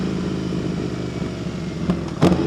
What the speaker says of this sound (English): Then I gotta downshift.